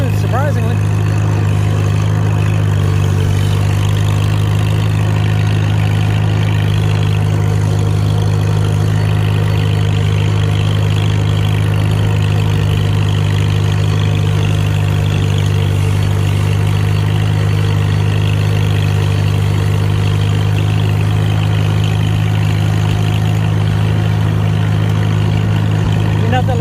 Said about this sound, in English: Ain't nothing like driving an old tractor in the country